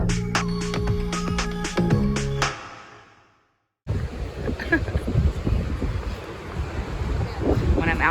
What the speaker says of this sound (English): It's probably so windy.